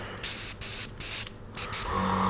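An airbrush sprays paint in short hissing bursts of air, five or six quick pulses separated by brief gaps, close and fairly loud, with a fainter hiss trailing at the end.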